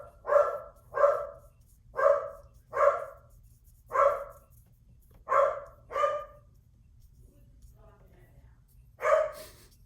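A dog barks indoors in a run of about eight sharp, evenly spaced woofs, then falls quiet before one last bark; each is clear and moderately close, with no talking.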